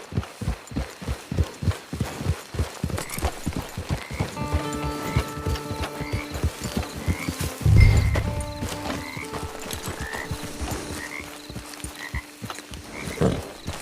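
A horse in the Red Dead Redemption video game, with rhythmic hoof clip-clops on the ground giving way to a loud snort and whinny midway, over ambient game sound.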